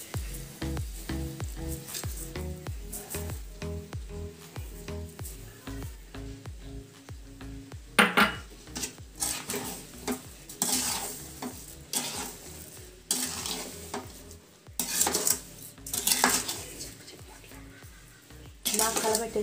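Semiya kesari with sugar is stirred in a pan, giving a steady rhythmic scraping of a spoon on metal over a soft sizzle, with occasional louder clanks.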